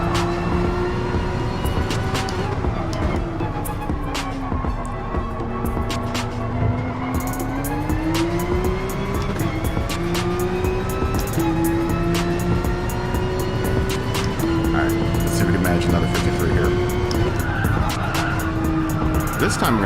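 A race car in GT Sport at Tsukuba circuit brakes and turns with sustained tire squeal and skidding over a loud, continuous engine whine that rises and falls, while a voice talks over it.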